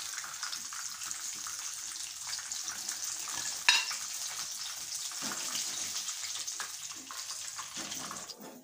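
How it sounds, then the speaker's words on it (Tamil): Prawn kola balls deep-fry in hot oil for a Tamil prawn kola urundai kulambu, giving a dense, continuous bubbling hiss with one brief sharp clink partway through. "எல்லாத்தையும் நல்லா சூப்பராக பொரிச்சு எடுத்தாச்சு"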